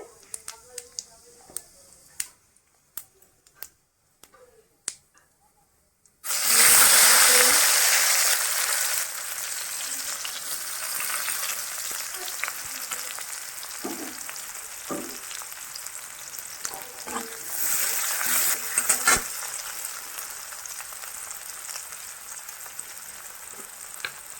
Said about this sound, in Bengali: এবার আমি ফোড়নের জন্য আমি জিরে দিয়ে দেবো সাদা জিরে